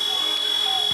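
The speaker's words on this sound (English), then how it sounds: "And there's the shot clock buzzer" At a 2014-15 EuroLeague third-place basketball game between Dynamo Kursk and Fenerbahce, the shot clock buzzer sounds as a steady high electronic tone lasting the full second, set over arena crowd noise.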